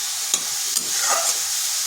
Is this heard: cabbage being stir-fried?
yes